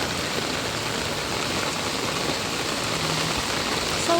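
Steady rain falling in Hong Kong on a cold day, a dense continuous hiss with close patter on surfaces, unbroken and fairly loud throughout with no talking.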